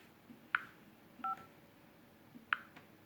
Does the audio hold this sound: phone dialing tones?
yes